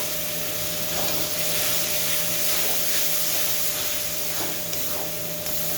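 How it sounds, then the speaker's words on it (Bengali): Water poured into mutton curry in a hot pan sets off a loud, continuous hiss and sizzle, steady from start to finish with a faint background hum and no talking. "বাটি ধোয়া জল দিলাম"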